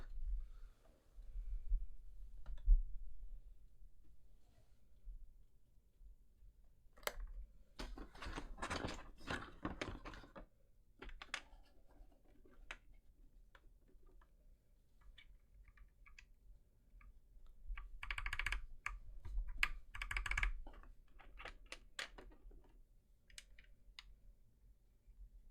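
Keystrokes on an FL-CMMK MK870 mechanical keyboard fitted with EnjoyPBT ABS doubleshot keycaps, fast bursts of clicky typing around seven to eleven and eighteen to twenty-one seconds, with quieter scattered presses between, close and alone.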